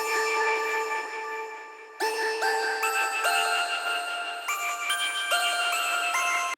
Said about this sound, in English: I went ahead and got my little synth plucky sort of sound